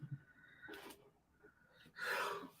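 A sneeze bursts out near the mic during a live stream, a loud, breathy blast near the end after a sharp intake of breath and quieter nasal sounds.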